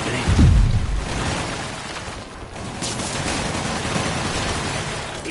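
Spider-Man video game gunfire opens with a heavy low burst, then sustains as dense, noisy, rolling shots and chaotic action sounds that stay loud throughout.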